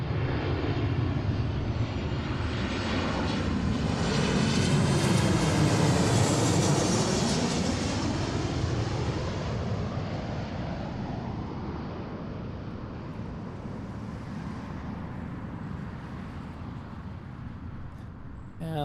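A United Boeing 737-800 lands at Seattle, its jet roar swelling to a loud peak as it passes close, then fading into a lower rumble as it rolls away.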